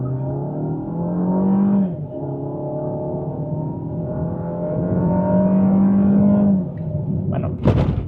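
A Citroen C5 Aircross in Sport mode accelerates hard from a standstill, its engine note rising steadily in pitch with a gear change partway through, loud and close inside the cabin, ending with a brief clunk.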